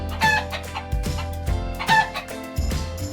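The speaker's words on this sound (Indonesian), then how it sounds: "Hewan apa yang bersuara kukuruyuk?" A rooster crows twice in quick succession, close and clear, with clucking chicken sounds around the calls and no speech.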